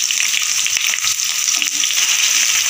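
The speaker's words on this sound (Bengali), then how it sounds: "আলু আর ফুলকপি একসাথে আমি ফ্রাই করে নেব।" Diced potatoes and cauliflower fry together in a pan, with a steady, dense sizzle holding the whole time and a few soft stirring scrapes underneath. No one speaks.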